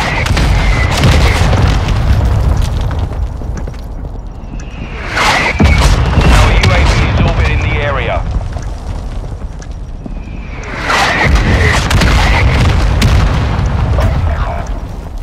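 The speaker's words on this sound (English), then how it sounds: "Friendly mortar strike on the way." Mortar strike explosions in Call of Duty: Modern Warfare II, a Search and Destroy match at Al Bagra Fortress: two loud, heavy booms several seconds apart, each with a long rumbling tail, over constant battlefield noise.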